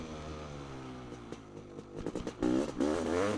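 A Honda CR500 dirt bike engine runs nearby with a droning, buzzy idle, then gives a few sharp blips of the throttle and louder revs toward the end.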